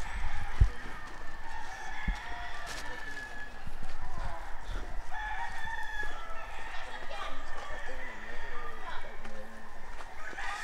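A rooster crows at a rural stop in Guintubdan, its call repeating over steady outdoor ambience, with people talking nearby.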